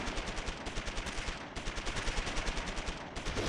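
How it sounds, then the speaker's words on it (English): Rapid machine-gun bursts from the World War II strategy game Close Combat III rattle continuously at an even rhythm, dense and moderately loud, with a couple of short breaks and no talking. "Yeah, they're still shooting out of there, though."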